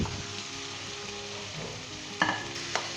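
Minced beef sizzling in hot oil with onions, ginger and garlic for a Pakistani bell pepper keema, a steady close frying hiss with stirring and a couple of sharp utensil clinks near the end, no talk.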